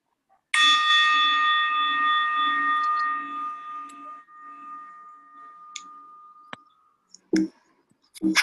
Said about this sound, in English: And with the sound of the bell, we shall end this meditation.